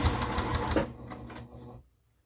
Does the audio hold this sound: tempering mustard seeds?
no